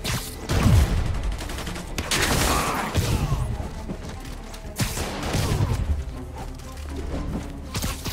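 Gunfire erupts during combat in Marvel's Spider-Man Remastered on PC, loud overlapping volleys and impacts with crashes and booms, dense and close, in uneven bursts across the scene.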